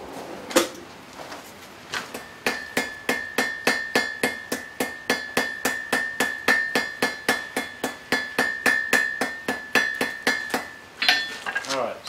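A hammer rings in a fast, even rhythm on hot steel at a forge as the stem of a leaf hook is drawn out: about thirty loud, close metallic blows in a row.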